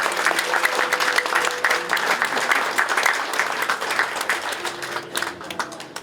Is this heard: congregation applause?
yes